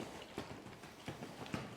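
Hooves of a big-striding horse thud on the ground of a small round pen in a steady trot rhythm, several muffled beats at moderate distance with light background noise.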